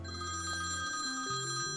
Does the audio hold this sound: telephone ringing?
yes